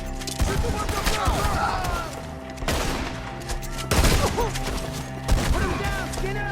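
Repeated bursts of gunfire in Red Dead Redemption 2, loud sharp volleys at about 0.4, 2.6, 3.9 and 5.3 seconds, with game music and character shouting underneath.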